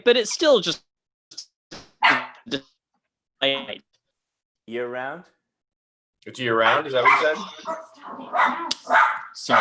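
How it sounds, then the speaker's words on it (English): A dog barks in short bursts in a home on the edge of Silver Lake and East Hollywood, with conversation before and after. "my dog's really ruining the show."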